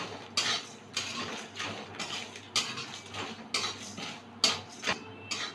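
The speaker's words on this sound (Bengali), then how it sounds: "ভালো করে ভেজে নেব।" Whole spices (cumin, fennel, coriander and garam masala) dry-roasted in a pan for ghugni, giving repeated scraping, rattling stirs of metal against metal in short bursts at a steady, unhurried rhythm, close and moderately loud with no talk.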